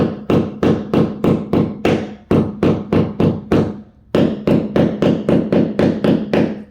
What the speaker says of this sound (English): Pound that in to where it's concave, so where it's a divot.